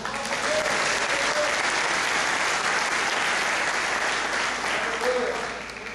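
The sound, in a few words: church congregation applauding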